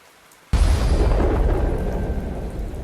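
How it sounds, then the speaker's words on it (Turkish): Unreal Engine 5 storm effect: a sudden loud thunderclap from a lightning strike bursts in and rumbles on, slowly fading over steady rainfall. "Gördüğünüz gibi yağmur yağıyor."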